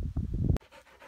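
Two dogs being dog-sat pant in quick rhythmic breaths, close by, followed by a sharp click and fainter breathing.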